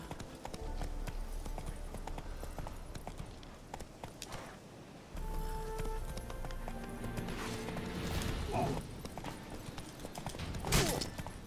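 Roach the horse galloping in The Witcher 3, continuous rapid hoofbeats under a bed of game ambience, with a brief lull midway and a couple of louder rushing swells near the end.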